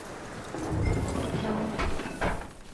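Horse hooves clip-clopping in Red Dead Redemption 2, a soft, moderately distant walking rhythm over quiet outdoor ambience.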